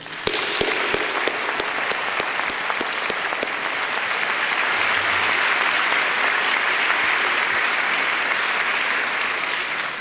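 Graduation audience at an inaugural museum PhD commencement breaks into sustained, dense clapping that holds steady and fairly loud for the whole stretch, with no speech over it.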